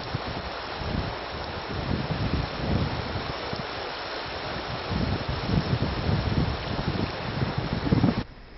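Wind on the Yama River in Siberia buffets the microphone in a continuous rough roar, gusting slightly louder toward the end with no talking.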